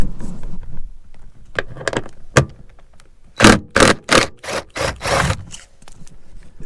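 A power tool removes a 10mm nut from the rear seat of a Nissan R34, heard as several short, loud whirring bursts close by, after some quieter rubbing and handling noises.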